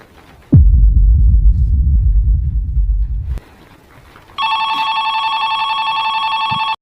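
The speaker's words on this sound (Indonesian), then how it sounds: "tiba-tiba telepon berdering" A low rumbling thud and hum fades out, then a telephone starts ringing loudly with a steady electronic bell tone.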